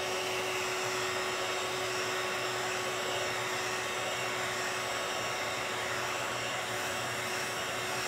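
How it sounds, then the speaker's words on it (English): Hair dryer blowing steadily to dry a piece for a wired bird cage cloche craft, a loud continuous whooshing roar with a constant whine throughout, no voices. "I need to dry this because I gotta use it."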